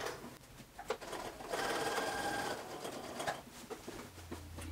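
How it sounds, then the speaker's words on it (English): A sewing machine hums steadily at a fast, even pace while stitching the hem and edge of a camisole, fairly quiet and close, with no voices. "I'm gonna stitch across the bottom, and then turn again, and stitch up this edge."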